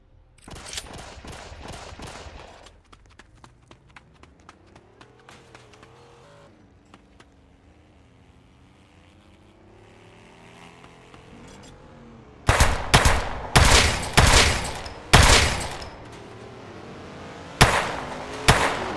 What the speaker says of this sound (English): I keep hearing gunshots, so I gotta kill you guys